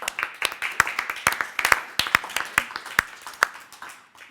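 A small group at a health policy workshop panel claps, sharp uneven hand claps rattling along at a steady pace, fairly close and tapering off slightly toward the end.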